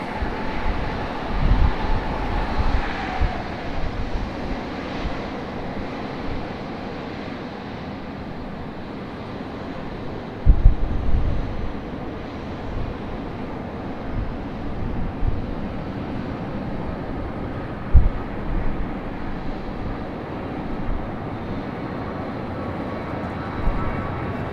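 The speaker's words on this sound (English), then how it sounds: "Now we got our American 737 that made its way out to the runway very, very slowly." An American Airlines Boeing 737 taxis slowly out to the runway at Raleigh-Durham International Airport at sunrise, a distant steady jet rumble and whine under outdoor wind noise, with a few scattered bumps.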